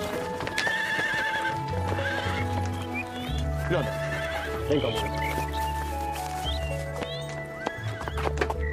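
A horse neighs and whinnies while its hooves clip-clop nearby, with a person speaking over the animal sounds throughout.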